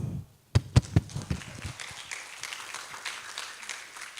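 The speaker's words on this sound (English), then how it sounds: "Let's welcome them with a round of applause." A few sharp claps start after a brief silence, then spread into light, scattered applause from a small audience that continues at moderate volume.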